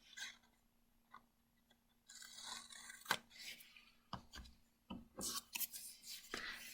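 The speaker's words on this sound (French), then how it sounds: "Et je coupe le petit bout." Scissors snip through the small end of a long paper strip, with several sharp, close cuts and papery rasps in quick succession.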